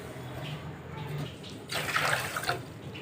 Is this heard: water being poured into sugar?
yes